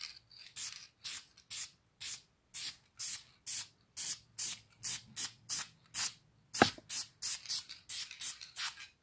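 Aerosol spray paint hisses onto a car brake caliper in a long series of short, evenly spaced bursts, close and fairly quiet, with no voices.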